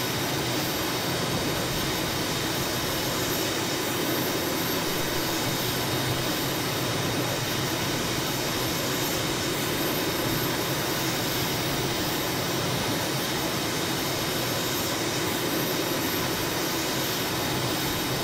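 A BAE Hawk jet trainer's engine at full power in Microsoft Flight Simulator 2020, near 400 knots, roars as a constant, loud, broadband whine and rush that holds steady from start to finish.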